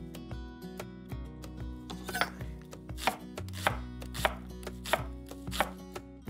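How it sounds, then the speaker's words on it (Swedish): Knife chopping vegetables such as onion and leek on a cutting board for green shakshuka, a steady run of sharp, fairly close chops over soft background music. "Så hacka inte ner det för fint."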